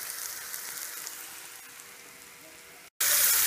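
Washed lamb pieces sizzling in a hot pan with turmeric powder, a steady crackling fry that dips briefly near the end and then bursts back louder, with no talking.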